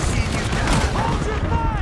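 Heavy gunfire in the video game Red Dead Redemption 2, a dense, loud fusillade of overlapping rifle and pistol shots that rolls on without a break, with shouting voices mixed underneath.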